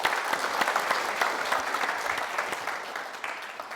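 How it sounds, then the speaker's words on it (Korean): An audience of parents at a parenting talk concert in Daejeon applauds to welcome Professor Ko Young-mi to the stage. The steady, dense clapping holds for several seconds and fades slightly near the end. "큰 박수 부탁드립니다."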